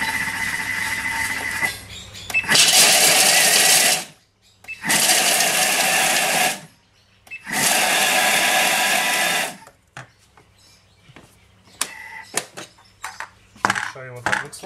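Food processor pulsed on turbo to blend a sticky nut, ginger and date cheesecake base: three loud, sustained bursts of a couple of seconds each with short pauses between, then quieter clinks and handling noises.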